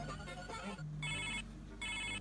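A telephone ringtone sounds in two electronic bursts with a pause between, heard faintly in a room with background hum and low voices underneath.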